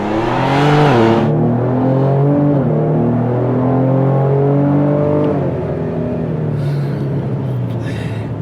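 Ford Explorer with a cold air intake pulling hard from a stop, engine note climbing steadily in pitch through a gear change and then rising again, loud and close inside the cabin.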